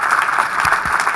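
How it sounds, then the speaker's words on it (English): A plenary session audience at the EE Global 2017 conference applauds the panelists. Loud, dense clapping from many hands fills the room without pause for the full moment. "I would like to do so by asking all of you to give a very, very round of applause of appreciation."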